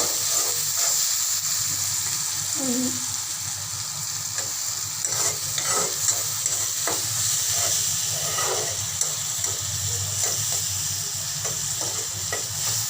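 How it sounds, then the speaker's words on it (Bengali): Onions frying and being stirred in a pan for a rui fish bhuna, with a steady close sizzle and repeated scraping stir strokes throughout. "আমার পেঁয়াজটা মোটামুটি ভাজা হয়ে আসছে"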